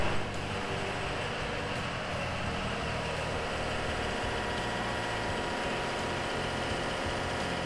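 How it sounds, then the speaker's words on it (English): Four Caterpillar 3516B diesel engines, about 70 liters each, run inside a cruise ship's engine room on the Great Lakes, making a loud, constant, dense roar and drone that never lets up. "Surrounded by four massive Cat 3516B engines, these kitties are about 70 liters each and pump out a couple thousand horsepower and a whole lot of sound."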